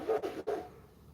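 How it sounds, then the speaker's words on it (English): A dog named Ace gives two quick, gruff barks nearby outside, the second trailing off. Both are fairly loud, and no one speaks over them. "Ace is out there barking out jacking at somebody."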